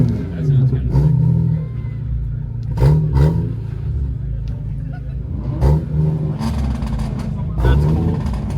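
Mazda Miata engine giving short revs, a low rumbling idle punctuated by a few brief throttle blips, heard nearby beneath people talking.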